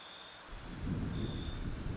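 Thunder in a role-playing video game, a low rumble swelling after a quiet start and rolling on over steady rain-like noise, heard alone without talk.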